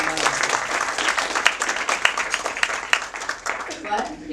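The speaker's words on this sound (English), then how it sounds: "Let's do another round of applause." Audience applause for award winners at a women's realtors council officer installation, a steady crowd clapping with sharp individual claps standing out, with voices mixed in.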